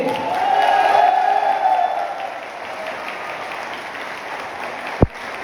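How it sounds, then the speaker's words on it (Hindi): An audience applauds with light cheering, a moderate crowd sound that swells early and then settles into a fainter wash, broken by one sharp knock near the end. "हमारे कंट्री मेंटर के लिए एक बार जोरदार तालियां होनी चाहिए"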